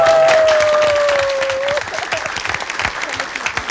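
Studio audience on a TVRI anniversary music quiz show breaks into loud, dense applause that fades slightly, with a host's voice briefly carrying over the start.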